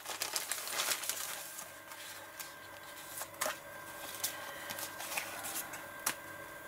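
Soft, irregular crinkling and rustling of a plastic bag being handled, with scattered sharper crackles throughout.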